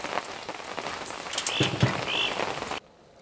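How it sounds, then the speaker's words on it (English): Rain drips and patters steadily outdoors near a charcoal-making fire, with frogs croaking in the background, before the sound cuts off abruptly. "we are having some dripping rain"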